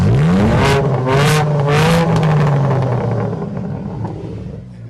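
A performance car's engine revs hard at the exhaust during a hill climb event, rising in pitch then holding a loud, steady growl before easing off slightly toward the end; there is no talk.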